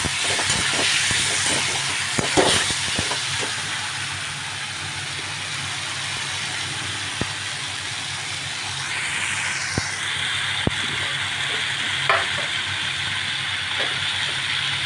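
Shyama rice being fried and stirred with spices in a pan for khichuri, a continuous hissing sizzle with occasional sharp scrapes and clicks of a spatula, steady and fairly close, without any talking.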